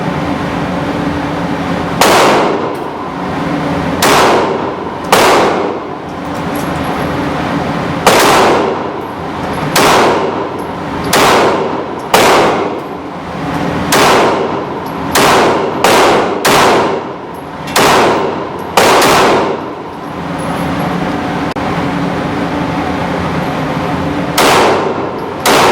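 A Taurus PT111 G2 9mm pistol fired at a range, about a dozen sharp loud reports, some single and some in quick clusters, with gaps between them.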